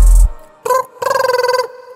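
A phone rings in The Quarry, a loud electronic ringtone that sounds in short bursts after a brief thud, with no talking.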